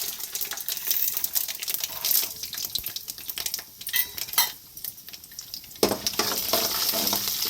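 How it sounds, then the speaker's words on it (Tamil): Mustard seeds and chana dal frying in oil, an uneven crackle and sizzle mixed with clinks of a utensil and pan, rising and falling in loudness, no speech. "கடுகு சேர்த்துக்கலாம் கடுகு நல்லா இருக்கு இது கூடயே வந்துட்டு கடலப்பருப்பு பருப்பு ரெண்டு சேர்த்துக்கோம்"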